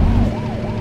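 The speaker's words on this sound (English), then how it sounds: "I'm guessing there's a police car right next to us?" A wailing police siren in the truck-driving game Euro Truck Simulator 2 sweeps up and down over low engine rumble, close and loud for a brief moment.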